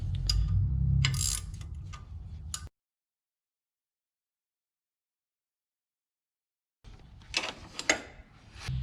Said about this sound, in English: Now we tighten the bolts down.